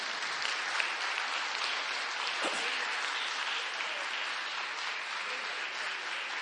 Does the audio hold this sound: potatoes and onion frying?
no